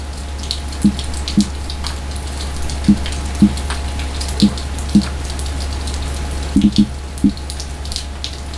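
Steady summer rain falls in Zlatibor as a soft, even hiss with a low constant hum beneath, scattered sharper drips knocking at irregular intervals, no talk.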